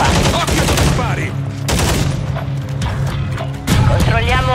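Dense gunfire during a Call of Duty Modern Warfare 3 Domination match on the Bait map, with rapid automatic bursts, sharp shots and mechanical clatter, plus intermittent voice chatter mixed in.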